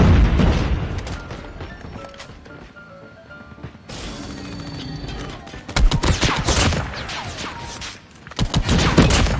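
Rapid bursts of Maddox assault rifle fire in a shooting video game, loud and sharp, with a quieter stretch early on and dense volleys of shots and impacts in the second half.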